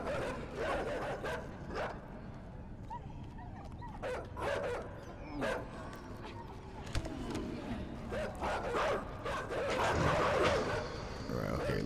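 Dogs bark and yip in the video game Inside, a series of short barks and whimpers spread across the clip over a steady background, with some faint voice-like sounds mixed in.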